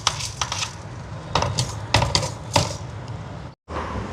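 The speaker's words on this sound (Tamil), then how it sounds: "இப்போ திருப்பி இந்த சட்டியை வச்சாச்சு" Metal cooking pan set back down on a stove during preparation of Chettinad chicken gravy, several sharp clanks and scrapes at irregular intervals, close and clear, followed by a brief silence.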